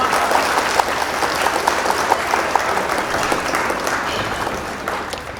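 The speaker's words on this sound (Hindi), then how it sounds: "एक बार जोरदार तालियां पवन के लिए।" Audience applause for a poet at a Hindi comedy poetry gathering, a steady wash of clapping from a crowd that carries on for several seconds before slowly thinning out.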